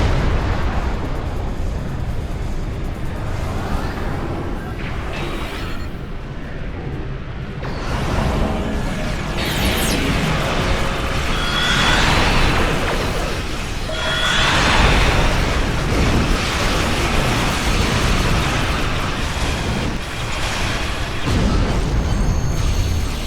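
Dense, continuous rumbling blasts and booming explosions in a Star Trek Online space battle as the Dreadnought is destroyed, loud and sustained with rolling bursts and no speech.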